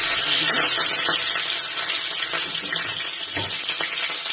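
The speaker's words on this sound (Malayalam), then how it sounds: "ഇനി ഇതൊന്ന് താളിച്ചെടുക്കാൻ വന്നിട്ടുണ്ട്. അതിൽ കുറച്ച് പച്ചമുളക് മുറിക്കിയതിട്ട്" Cut green chillies hit hot oil for a tempering for Nepali chukauni, giving a loud, close, continuous sizzle and crackle with brief bursts of spattering and stirring, and no voices.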